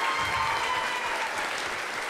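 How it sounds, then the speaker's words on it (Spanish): A crowd applauding steadily at a programming contest closing ceremony, a dense wash of clapping that holds at an even level throughout, fairly close. "Un fuerte aplauso, por favor"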